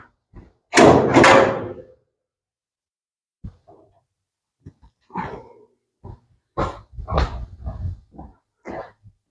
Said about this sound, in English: He's a little poodle mix and I'm about to get him out right now.